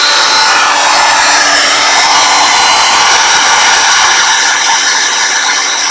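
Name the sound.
heat tool warming up for card making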